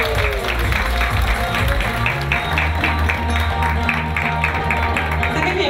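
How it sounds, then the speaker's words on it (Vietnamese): A crowd at an event applauds to welcome San Jose Vice Mayor Madison Nguyen, steady loud clapping running throughout over music. "Xin kính mời một tràng pháo tay thật lớn cho San Jose Vice Mayor Madison Nguyen"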